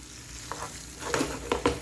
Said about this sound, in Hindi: इस तरीके से हल्के हाथों से इसको मिक्स करेंगे।